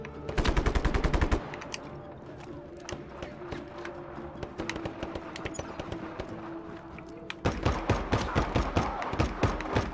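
Automatic gunfire in the video game Just Cause 3 rattles out in loud rapid bursts at the start and end, with scattered single shots in between.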